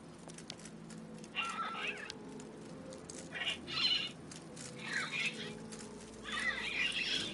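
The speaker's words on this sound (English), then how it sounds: "The birds in the aviary are beautiful." Birds in an aviary in the game Syberia give several sharp squawks at separate moments, with wing flaps in a quiet, hushed ambience.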